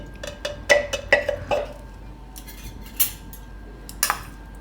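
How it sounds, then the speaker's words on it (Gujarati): A spoon scoops fresh cream (malai) into a mixer jar: a series of bright, close metallic clinks and taps in quick irregular bursts, then a few sparser knocks against the jar. "હવે આપણે આ મિક્સરની જાર લીધીશ, એમાં આપણે નાખી દેવું આ મલાઈ"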